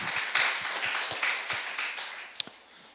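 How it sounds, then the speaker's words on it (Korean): A church congregation claps together during a Sunday worship service, a quick, steady run of rhythmic handclaps at moderate volume that fades toward the end, with one sharp louder clap near the close. "우리 하나님께 영광의 박수를 더 아름답게 올려드립시다"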